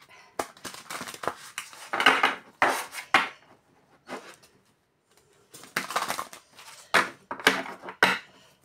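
A deck of cards is shuffled for a weekly card reading: several close, crisp bursts of riffling and slapping, in two clusters separated by a short quiet pause, with no voices.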